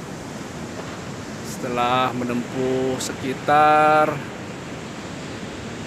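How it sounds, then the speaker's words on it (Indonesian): Ocean surf and wind at Jayanti beach in South Cianjur, a beach facing the open ocean, form a steady broadband roar that stays loud and continuous beneath someone speaking close to the microphone. "tampak di belakang saya Pantai Jayanti, Cianjur Selatan, pantai yang berbatasan langsung dengan samudra"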